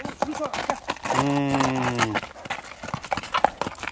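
A horse being shown for sale gives a loud whinny amid clattering hooves and other movement noise, with voices faintly in the background.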